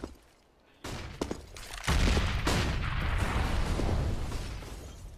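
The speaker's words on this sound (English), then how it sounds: "Initial flashbangs and such." Flashbang grenades go off during a Counter-Strike match on the map Train: a sudden loud burst after a quiet moment, then a sustained roar of popping and crackling blasts.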